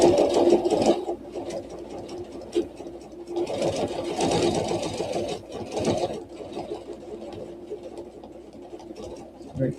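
A sewing machine hums close and loud as it quilts a ruler-guided Baptist fan design, running in continuous stretches that swell and ease slightly as the stitching speed changes.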